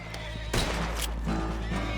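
A horse in the Red Dead Redemption 2 game lets out a loud, close, shrill whinny lasting about half a second, over a steady background hum, followed by quieter fading noise.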